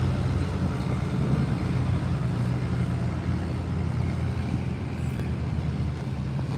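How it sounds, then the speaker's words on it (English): Antique tractor engine at an outdoor Ohio tractor pull, a continuous low rumbling drone at moderate distance with wind noise over it. "We are at a tractor pull."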